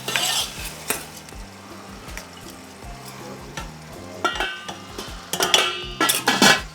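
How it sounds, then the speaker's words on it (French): Lentils sauté in spices in a pan with a constant sizzle under repeated utensil scrapes and knocks against the pan, growing busier and louder toward the end, close and without voices. "Pour faire revenir un peu plus les lentilles dans les épices et après rajouter l'eau."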